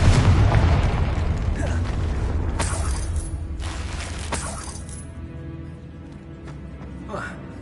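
Incendio and Confringo spells burst in the Hogwarts video game, producing a loud rumbling blast followed by several sharp explosive pops over a busy game soundscape that fades toward the end.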